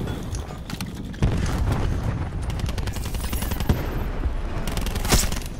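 Rapid SMG bursts in Call of Duty Black Ops 4 Blackout mode, loud and close, with dense rattling volleys and scattered sharper shots over a constant battle backdrop.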